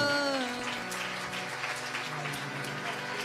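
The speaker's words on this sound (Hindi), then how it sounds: "आइए जोर से ताली बजाते हुए" A church congregation claps loudly and continuously in a dense, rain-like patter, with a voice singing or calling over the start.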